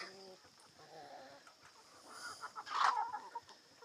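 Chickens and roosters in a backyard garden give scattered, soft clucks and short calls, with one sharper squawk midway, fairly distant and faint.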